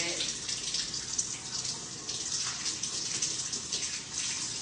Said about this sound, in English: now we have on the warmer side of warm water. We're gonna fill it up to the fill line